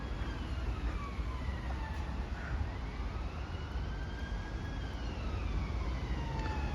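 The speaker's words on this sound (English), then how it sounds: "We've got a police car with its siren." A police siren wails with slow rising and falling tones, heard at a steady distance over a constant rumble of traffic or engine noise.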